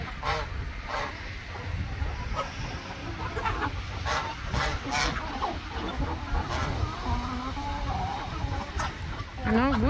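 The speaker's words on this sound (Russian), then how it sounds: "Вот какой петух большой." A large rooster, geese and other fowl call amid a busy farmyard, with honking and clucking over steady background noise.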